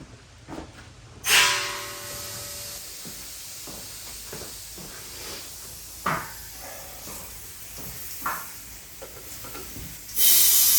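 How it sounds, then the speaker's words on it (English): An air compressor hissing air into a tractor tire on a rim, a steady broad hiss broken by a few dull thumps and bangs, with a louder burst of air at the end. "Let me turn the air compressor back on."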